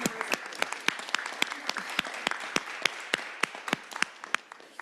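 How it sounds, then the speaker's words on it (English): A small group claps for several seconds at a school board meeting, sharp scattered hand claps close by, fairly light rather than a big crowd. "let's give you a round of applause"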